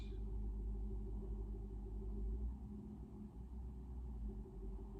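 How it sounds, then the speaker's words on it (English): Faint, distant road traffic forms a low, continuous rumble with slight swells, steady and far off with no other sounds on top. "So we might hear traffic in the distance."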